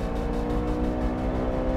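A Honda car's engine holds steady under power on a race track, a loud, continuous close-up drone with dense low harmonics and no pause.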